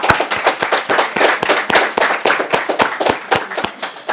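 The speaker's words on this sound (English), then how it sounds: "please, a round of applause for our panelists" A round of applause for the panelists at the close of a careers-in-international-business talk, dense steady clapping from an audience that holds for the full stretch without any voices.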